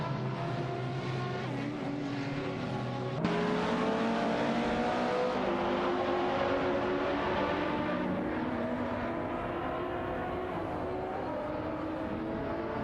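Race cars, including a BMW i8 and a TVR Tuscan S, in a racing video game, producing a continuous loud engine drone with shifting revs as the cars run close together on track.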